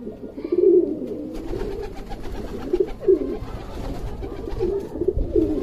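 Pigeons coo in low, throaty repeated calls close by, several soft rolling coos overlapping over a steady background hum, with no talking.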